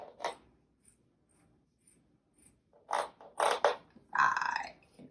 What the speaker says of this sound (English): So I'm going to cut here. Cut that other pesky sleeve off.